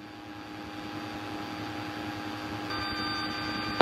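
Aircraft flying inbound to land on runway 33, a steady droning engine hum that builds gradually and grows louder toward the end, heard alone with no voices.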